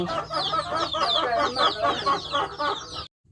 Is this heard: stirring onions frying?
no